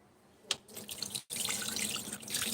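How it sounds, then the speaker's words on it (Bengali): A tap runs steadily into a sink as someone washes their face at home, the water gushing after a brief splash, with a short break in the flow partway through, then a continuous rush close by. "মুখটা ধুতে এসছি"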